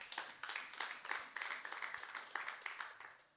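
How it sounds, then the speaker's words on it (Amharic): Worshippers clap together during a midweek live church service, a fairly quiet burst of rhythmic, steady group handclaps at a quick even pace, somewhat distant in the room, with no voices heard. "ለጌታ ክብር አጨብጭቡ።"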